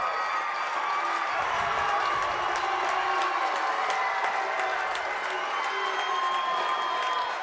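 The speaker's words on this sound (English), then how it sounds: "Coach Shumway getting the crowd up on their feet." Fans at a Wyoming high school boys basketball game, Star Valley against Rock Springs, rise with sustained cheering, shouting and clapping, a loud, continuous roar of the packed gym with faint shoe squeaks and whistles threading through.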